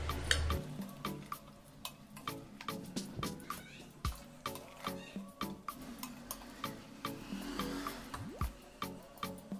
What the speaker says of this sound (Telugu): నిమ్మరసం వేసినాక మొత్తం ఇట్లా కింద నుంచి కలుపుకోవాలి